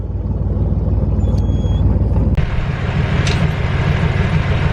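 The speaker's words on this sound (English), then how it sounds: "Shut these old engines down" Old boat engines run with a loud, steady low rumble close by, a constant droning throb with a couple of brief clicks and a faint high whine over it.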